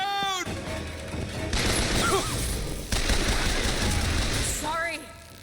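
Video game gunfire in a cloud city comes as rough bursts of rattling shots, framed by shouting voices at the start and end.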